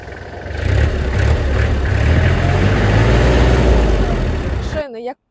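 The 1.5-litre three-cylinder diesel engine of a Kubota GL-29 tractor idles with a steady low rumble close by, then cuts off abruptly at the end.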